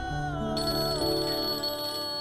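A mobile phone's ringtone plays an incoming-call melody close by, a steady tonal chime lasting a couple of seconds, with no one talking over it.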